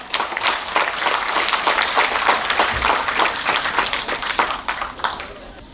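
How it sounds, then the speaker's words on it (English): Warm, continuous clapping from the audience at a pre-primary school graduation, many hands at close range keeping a lively, even rhythm throughout before easing slightly at the end. "Please join me in a warm round of applause for them."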